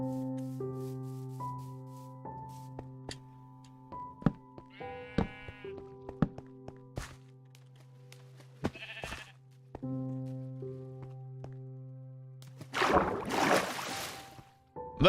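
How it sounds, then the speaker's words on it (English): A Minecraft sheep lets out a short nasal bleat over game music, followed by a burst of rustling noise near the end. "Oh, that sheep scared me."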